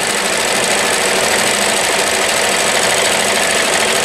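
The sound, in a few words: 1994 New Home Model 108 sewing machine running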